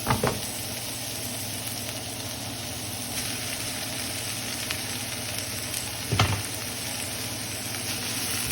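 Cabbage, celery, onion and carrots sautéing in a pan for pancit bihon, with a continuous close sizzle and a low steady hum underneath, plus a couple of brief knocks of utensils.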